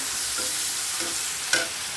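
Steady sizzling of onions and crushed garlic frying in a pan, with a couple of soft stirring scrapes, close and continuous, no voices.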